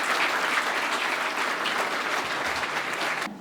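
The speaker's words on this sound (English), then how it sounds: "It's just proper that we pause and give all of our nominees, all 15 of them, a big round of applause." Sustained applause from an audience at the Liberia Development Awards ceremony for the award nominees, a dense, even wash of clapping that fades slightly at the end.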